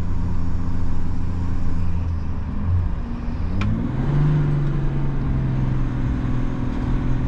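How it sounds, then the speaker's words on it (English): A 2021 Chevy Silverado with the 3.0 Duramax diesel climbs a hill, its engine droning loudly and steadily in the cabin with a rising tone as it pulls and draws air. "So when we start coming up this hill, you can hear it suck air pretty good."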